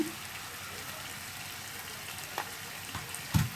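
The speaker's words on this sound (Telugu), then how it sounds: "ఇదిగోండి ఈ విధంగా మొత్తం మసాలాలో మొత్తం ఆయిల్లో ఫ్రై అయినంత వరకు కలిపేసుకోండి ఈ విధంగా." Masala for an egg curry sizzles faintly in oil, a low steady fry with a few soft stirring knocks and clinks near the end.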